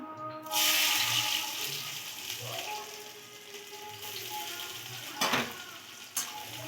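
Chopped onions dropped into hot oil in a pan that already holds nigella seeds, a sudden sizzle that settles into steady frying with stirring scrapes and a couple of clinks.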